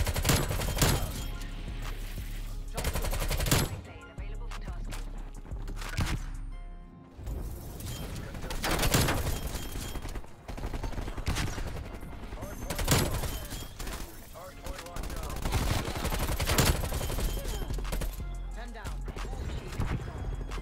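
QBZ-83 rifle fire in Call of Duty Cold War, repeated sharp bursts of shots scattered through a busy game mix, with someone talking over much of it.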